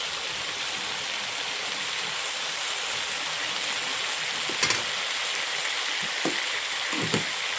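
Brinjal and kokra fry together in a pan over a village wood fire, giving a steady, close hiss of sizzling oil throughout, with a few soft clinks and knocks near the end.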